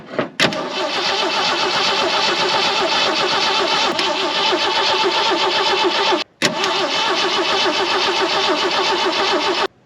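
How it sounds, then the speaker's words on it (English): A 1970s-era Jeep CJ5 engine, left sitting for 16 years, being cranked over by the starter in a long, loud, steady churning run that stops briefly, then resumes without catching. "Let's go ahead and pump it over before we hook it up."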